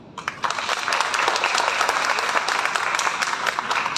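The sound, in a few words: audience applause at a talk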